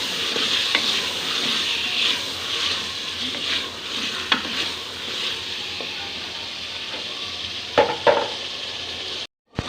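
Pumpkin sizzles steadily with spices in a hot pot while a spoon stirs and scrapes through it, with occasional louder clanks near the end.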